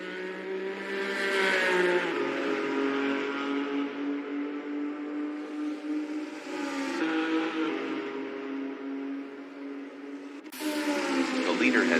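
Race car engines whine in a virtual racing game with a McLaren in the field, rising and shifting in pitch with abrupt gear changes, loud and continuous under a commentator's voice.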